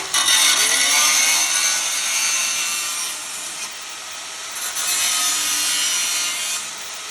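Handheld saw rasping steadily through the metal wall of a Pellet Pro 2300 vertical pellet smoker to widen a hole, a continuous close, loud scraping stroke with slight pitch shifts and no talk.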